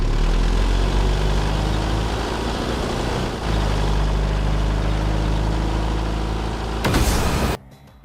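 A car engine drones steadily while driving in the Fortnite video game, a loud continuous hum with a brief dip midway and a burst of noise before it cuts off.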